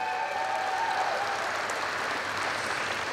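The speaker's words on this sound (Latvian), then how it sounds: "Aplausi viņai vēlreiz!" Applause for a police colleague at the State Police anniversary celebration: a steady, dense clapping from a large indoor audience, continuous and even, fairly distant, with no talk over it.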